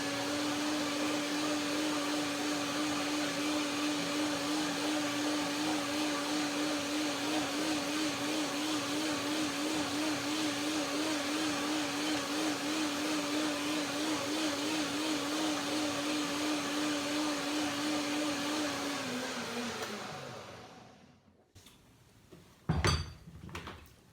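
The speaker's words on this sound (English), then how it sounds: "Blender dance again." A blender whirs loudly and steadily for about twenty seconds, then winds down and stops, followed by a couple of brief clunks.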